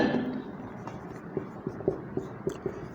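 Chalk writes on a classroom board in a short run of taps and scratchy strokes, each mark a distinct tick, close and moderately quiet, with no talking over the strokes.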